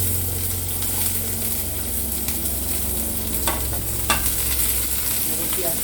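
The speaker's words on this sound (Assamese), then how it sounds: "পিঁয়াজখিনি ভালকৈ ভাজি লওঁ।" Chopped onions frying in hot oil with bay leaves and chilies for an Assamese chicken curry, a continuous close sizzle with occasional stirring scrapes and a sharper clatter near the end, no talking.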